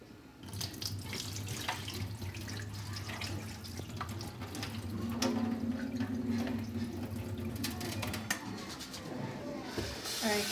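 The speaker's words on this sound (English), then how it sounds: "You're supposed to rinse the rice until the water is clear." Tap water runs steadily while grains are swished and rinsed by hand, with scattered clinks and splashes and a soft bird cooing in the background.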